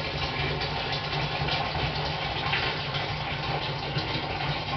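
Boiling water is poured onto a kilo of malt extract for a home-brewed Tooheys Draught beer kit. It makes a close, continuous rushing gush that holds steady throughout.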